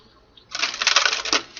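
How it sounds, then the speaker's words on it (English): A deck of tarot cards is riffled in one quick shuffle, a brief crisp flutter of card edges lasting about a second, close and fairly soft, with no speech. "One more shuffle."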